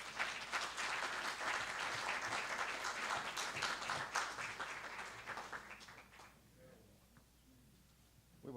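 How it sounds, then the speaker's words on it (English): An audience at a candidates forum bursts into sustained applause for two candidates, loud and dense for about six seconds, then thinning and fading away toward the end. "Now is the time for your applause for the two."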